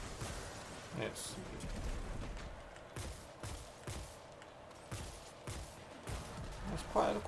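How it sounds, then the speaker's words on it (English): Fatebringer hand cannon explosions in Destiny 2, a series of sharp booming bursts roughly every second, loud and punchy, layered over steady game ambience with a final brighter crack. "That's quite a decent sized explosion."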